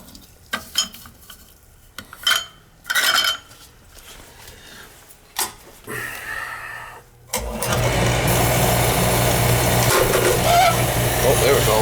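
Oil burner with no oil flow to it, first scattered clanks and knocks, then the pump and burner start up into a loud, steady continuous roar that holds to the end.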